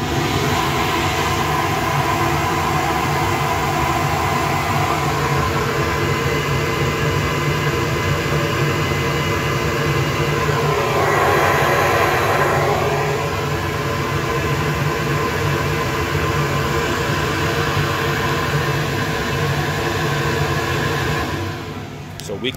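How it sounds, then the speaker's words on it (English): A Professional Products 70 mm throttle body with a radiused inlet is tested on a flow bench. It produces a loud, steady broadband rush of airflow that holds for about twenty seconds, swells briefly midway, and then tapers off at the end. "We're going to start the throttle body flow testing on a Professional Products comparison."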